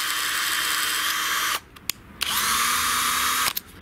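An 18-volt cordless drill with a two-speed gearbox whirs at high speed, cuts out, gives two brief bursts, then spins up again and runs steadily before stopping, close and loud with no talking.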